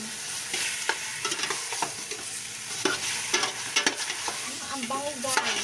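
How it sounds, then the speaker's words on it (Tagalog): Chicken tinola with lemongrass sizzling steadily in a pan while a spoon stirs it, with repeated scrapes and clinks against the pan over the continuous frying hiss. "Halu-haluin lang natin."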